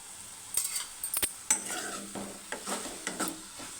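A prawn and tomato curry stirred in a pan: a few distinct scrapes and clinks of a spoon against metal over a soft sizzle, close and fairly quiet.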